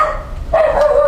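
A dog barks angrily at people visiting a cemetery grave, giving a sharp, tonal bark that follows quieter background sound and holds fairly loud and close for the latter half of the moment.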